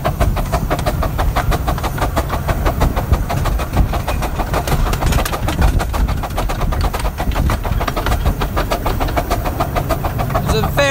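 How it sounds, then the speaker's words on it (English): A steam locomotive on the Romney, Hythe and Dymchurch Railway chuffs hard while accelerating its train, heard from the cab as a fast, rapid stream of exhaust beats over loud mechanical clatter and rumble. "Engine's working quite hard now to accelerate the train."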